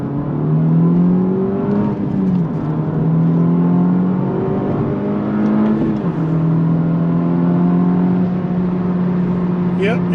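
Honda FL5 Civic Type R engine with an RV6 downpipe, holding a steady drone that rises and falls in pitch as it revs, loud and close throughout, with brief higher whine near the end.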